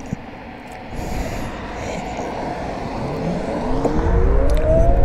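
A 2007 Vectrix electric scooter with a 120-volt system accelerating on a road at night: a close electric motor whine that climbs steadily over rushing road and wind noise, with no voices.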